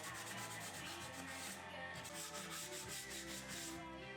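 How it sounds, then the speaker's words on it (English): Steady, even rubbing of sandpaper across the end grain of birch plywood, close and soft, continuing without a break for a few seconds with no one talking. "And then I sanded all the end grain."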